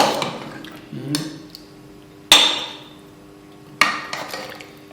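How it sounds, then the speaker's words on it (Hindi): A spoon clinks and scrapes against a serving dish while aloo gosht is dished out, giving a few separate sharp metallic knocks spaced a second or so apart, with quiet kitchen background between them. "अब इसको हम डिश आउट करने लगे हैं।"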